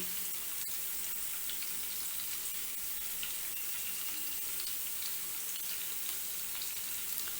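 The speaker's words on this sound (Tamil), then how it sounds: "இஞ்சியை வெண்ணெயில் நல்லா ஃப்ரை பண்ணி வச்சுக்கணும்" A quiet, continuous crackling sizzle of chopped ginger frying in butter, steady and hissy throughout with no voices.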